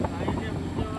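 Wind blowing over the open sea aboard a boat, a steady broadband rush with microphone buffeting that swells and dips throughout, fairly loud and close.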